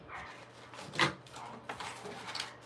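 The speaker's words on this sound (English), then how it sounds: "That little doggy named Roscoe out there." A small dog barks once, faint and somewhat distant, with softer yips and whimpers on either side against a quiet indoor background.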